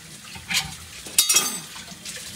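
Fruit being rinsed under running tap water, with short splashy bursts of water and faint clinks against a basin, close by and fairly quiet.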